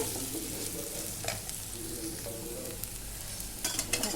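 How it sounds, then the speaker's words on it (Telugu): Chili powder being stirred into ivy gourd frying in a pan, a steady quiet sizzle with intermittent scraping stirs that grow busier toward the end. "ఇప్పుడు కారాన్ని బాగా కలబెట్టుకోవాలి"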